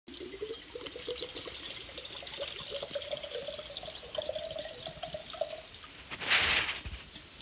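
Fresh coconut water is poured from a tender coconut into a copper vessel, a close trickling stream whose pitch rises as the vessel fills, ending in a brief louder gush.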